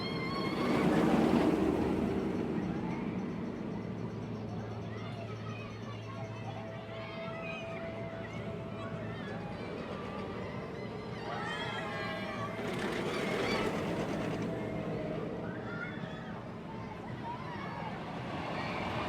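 The Booster Bike roller coaster at Toverland theme park rushing past, a rumbling whoosh that swells and fades amid crowd noise and people talking nearby, with a second train pass building around the middle.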